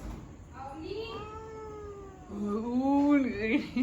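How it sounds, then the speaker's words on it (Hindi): A cat lets out drawn-out meows up close, two long wavering calls with a rising, whiny pitch, the second louder than the first. "म्याऊं कर, म्याऊं म्याऊं करो, म्याऊं"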